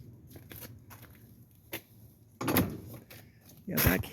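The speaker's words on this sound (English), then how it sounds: "I've got my keys so I can go in the front door." Keys rattle and a front door is unlocked and opened at a house during a garden walk, with scattered clicks and two louder clunks close by.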